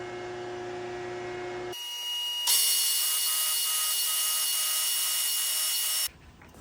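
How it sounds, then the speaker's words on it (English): A power drill whines continuously into metal, drilling a set-screw hole on a line-boring job, a steady high-pitched grinding that starts after a short hum and cuts off abruptly. "Got everything set up to drill the hole for the set screw."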